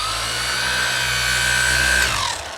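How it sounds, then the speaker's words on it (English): A machine polisher with an orange polishing pad runs against a surface, a loud, close, steady motor whine with a rubbing hiss that spins down at the end. "if we polish with this here on a surface now, it gives us an optical feedback if we are polishing too hot or not"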